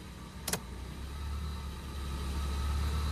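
Suzuki Karimun engine idling with a carburetor, a steady low hum whose loudness slowly rises as the RPM climbs after the headlights switch on, with a short click near the start.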